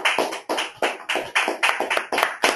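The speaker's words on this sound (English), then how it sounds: "Give a big round of applause for Akriti Sethi." A small group gives an award winner a round of applause, sharp rhythmic claps coming in quick bursts, close and fairly loud, with no voices.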